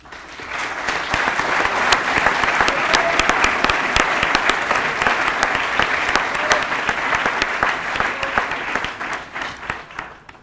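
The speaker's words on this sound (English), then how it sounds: "Please applaud." Audience at a Cum Laude Society induction ceremony applauding newly named members, a full, sustained wash of many hands clapping evenly for about ten seconds before tapering at the end.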